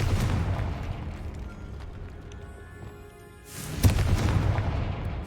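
Confringo fire blast spell in Hogwarts Legacy: low rumbling ambience, then a sudden booming explosion burst with a sharp crack, followed by a sustained loud roaring tail.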